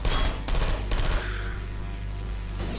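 A Portal 2 turret fires rapid bursts in the video game, dense loud rattling volleys in three quick clusters before tapering into a lingering electronic hum.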